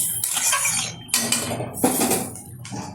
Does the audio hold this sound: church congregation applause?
no